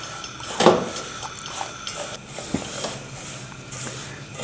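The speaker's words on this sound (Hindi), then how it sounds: "इसको अच्छी तरह भूनते हैं सूजी को" Semolina roasts in desi ghee in a pan over a slow flame for khoya suji halwa. A soft, steady frying hiss runs throughout, broken by a louder stir or scrape early on and faint clicks later.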